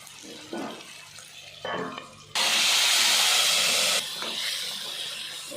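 Radish bhaji cooks in a covered pan in a home kitchen, with a loud steam hiss that bursts out for about two seconds and then settles into a softer, ongoing sizzle.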